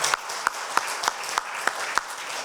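A church congregation at a Friday prayer meeting claps in steady, evenly spaced beats, each sharp clap standing out above a softer bed of scattered clapping, moderately loud and close.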